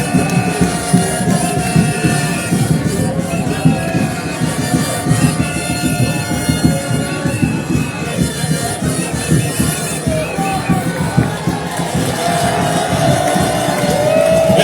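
A large crowd at a political rally in Bafoussam cheering and clapping for the national president, a dense, loud roar that holds steady throughout with no break.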